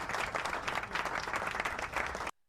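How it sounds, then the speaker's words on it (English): Classroom applause for a student group during a teaching demonstration: steady, dense clapping from a roomful of people that runs for over two seconds, then cuts off abruptly. "Another round of applause for group 2."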